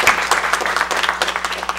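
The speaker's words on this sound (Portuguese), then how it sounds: "Queria então pedir aqui uma salva de palmas para eles." Audience applause at the close of a panel debate on sanitation and water resources, with brisk, uneven claps that fill the short moment.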